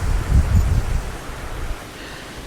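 Strong gusts from Storm Benjamin in Mallorca, Spain roar and buffet the microphone, low rumbling bursts that ease into a steadier rushing hiss.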